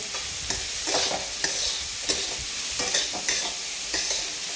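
Chopped onion with salt fries in a pan for a ridge gourd thecha, a bright continuous sizzle broken by repeated spatula scrapes and stirs, close and alone without voices.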